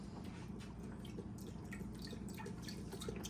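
Beef broth pours steadily into a crock pot in a home kitchen, a continuous liquid splash with a few drips heard up close, with no talking.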